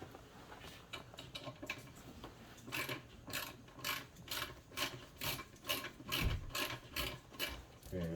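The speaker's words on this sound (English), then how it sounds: "get them all loose and use the socket to spin them off" A socket ratchet loosens throttle body bolts on a 2017 Dodge Journey four-cylinder, quick bursts of close clicking pawl sounds repeating in rhythmic strokes, faint overall.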